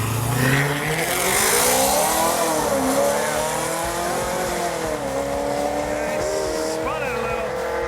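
A 1980 Chevy El Camino launches down a drag strip, its engine roaring and revving as the tires spin and squeal, loud and continuous, with crowd and announcer voices mixed underneath.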